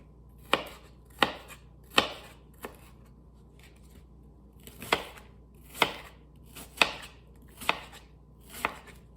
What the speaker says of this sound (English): I'll cut some red onion.